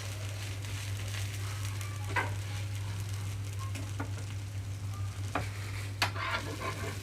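Millet utappam frying in a little oil on a pan over a medium flame: an even, close sizzle over a low steady hum, broken by a few soft clicks.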